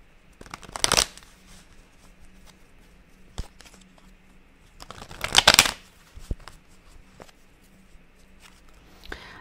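Tarot cards being shuffled in two quick riffling bursts with a softer card tap between them, close and crisp against a quiet room, no talking.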